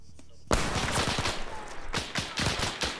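Gunfire in a Korean War combat video game breaks out suddenly into a dense, loud burst of rapid shots and rattling fire that continues in waves, with a brief voice heard before it starts.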